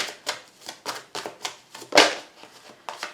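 Tarot cards shuffled by hand in a steady run of crisp riffling bursts, each a quick papery flutter with one louder slap near the middle, close and alone.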